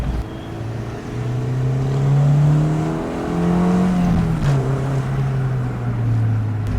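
A 1998 Honda Integra Type R's naturally aspirated engine revs on its own with no talk, its tone climbing and falling through several sustained pulls at moderate loudness, with wind and road noise underneath.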